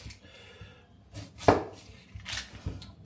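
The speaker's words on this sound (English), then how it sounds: "chop the ends off" A knife chops the ends off onions on a cutting board in a home kitchen, with several sharp, separate cuts, the loudest near the middle, and quiet pauses between them.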